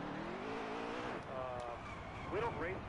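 A damaged car engine in a racing video game, droning and rasping with brief tire-squeal chirps near the end, while a voice talks over it.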